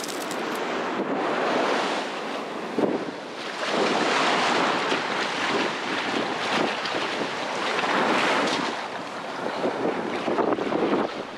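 Ocean surf washing onto a Florida beach at Navarre Beach, a continuous loud rushing roar of breaking and receding waves with gusty wind noise across the microphone.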